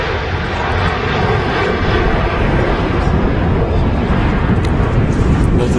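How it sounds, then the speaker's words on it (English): A Ryanair Boeing 737 departs Manchester Airport on a windy day, bound for Malaga: a loud, steady jet engine roar fills the whole stretch with broadband rumble and wind noise, and no voices are heard. "Ryanair 737. It's on its way to Malaga."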